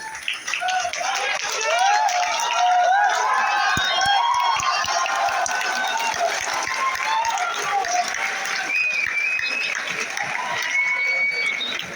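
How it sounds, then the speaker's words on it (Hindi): A crowd at a teacher's birthday meetup in Prayagraj claps and cheers continuously, dense and loud, with shouting voices mixed into the applause throughout. "हम टीचर्स जो हमारे विद्यार्थी हैं आपके सम्मान में खड़े होकर तालियां बजाएंगे"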